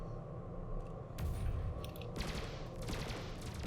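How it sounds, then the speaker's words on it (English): Cannon fire from a ship in the space combat game Elite: Dangerous, heard as a few heavy booming bursts over a low rumbling engine bed, moderately loud and with no talking. "And there goes the cannon."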